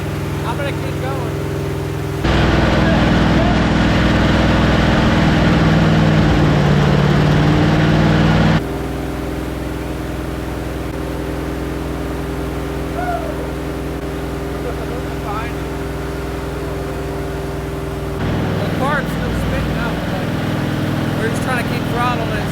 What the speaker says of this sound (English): Trying to keep throttling it so it stays running.